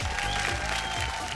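Studio audience on a Bhojpuri TV game show clapping to welcome a contestant from Gorakhpur, a dense, steady applause lasting the whole moment with a low music bed underneath.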